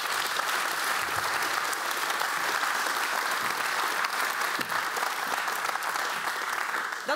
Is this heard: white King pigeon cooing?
no